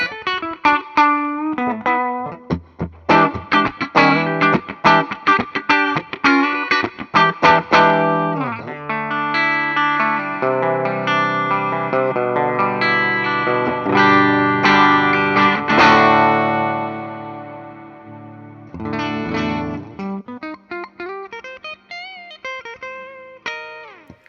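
An electric guitar with pickups wired out of phase has a thin, hollow, nasal tone, playing choppy strummed chords, then sustained ringing notes, then more quick picking, heard alone.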